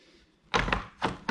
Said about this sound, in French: Le tiroir, je verrouille en poussant à fond.